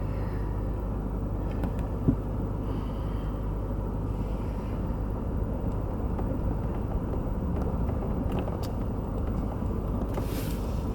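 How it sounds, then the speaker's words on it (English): A 2016 Toyota Tundra pickup truck drives through dark hill country at night, heard as a steady low road and engine rumble from inside the cab with no talking. "Let's go for a little drive."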